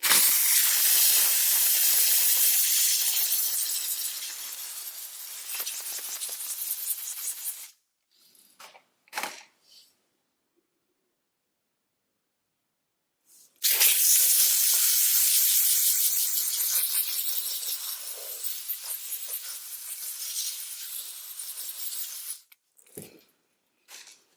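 A steam cleaner hisses in two long, loud bursts on car interior plastic trim, separated by a near-silent pause, with faint clicks and handling noises between them.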